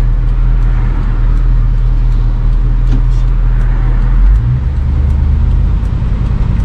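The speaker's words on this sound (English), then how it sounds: "Rain and traffic." Rain and road traffic heard from inside an RV in a snowy mountain valley, a steady broadband hiss with low engine rumble from passing vehicles, continuous and fairly loud with no talk.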